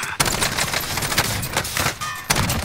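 Rapid gunfire crackles through a Call of Duty Warzone match, loud bursts of shots and sharp cracks overlapping in quick succession, with a few metallic clangs mixed in and no speech.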